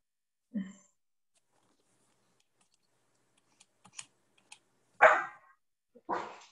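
Near silence broken by a few faint taps, then two short, loud dog barks close by, about a second apart.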